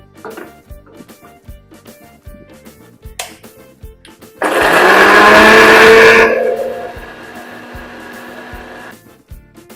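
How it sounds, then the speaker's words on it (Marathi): A mixer grinder whirs loudly for about two seconds while grinding prawn paste for a Marathi-style chutney, then winds down to a fading hum, with light clicks and handling knocks before and after. "ह्याचं आपण वाटण करून ठेवूया म्हणजे मिक्सरला लावून घेऊया"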